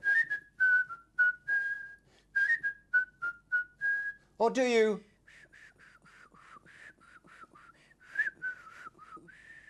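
A person whistles a string of short, bright melodic phrases in a 1991 studio-show setting, each note clear and close. Partway through there is a brief burst of voice, then the whistling resumes a little softer.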